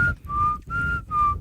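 A person attempts to whistle in four short, breathy bursts with a steady tone, close to the mic and alone without talk.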